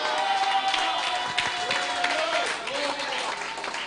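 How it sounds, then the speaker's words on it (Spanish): A church congregation at an annual retreat service claps in a burst of applause, moderately distant, with voices talking over the clapping. "Dele un aplauso a Cristo."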